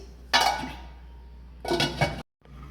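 A lid set down on a cooking pot of rice and potatoes boiling for a Bengali fish-head muri ghonto, giving two clear metallic clinks a moment apart, close and fairly loud with no talk.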